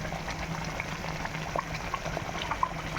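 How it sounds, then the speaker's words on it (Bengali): Hilsa fish gravy bubbling in a wok, a soft steady simmer with small irregular pops and blips close by, alone without talk. "আমার মাছের ঝোলটা ফুটতে শুরু করেছে"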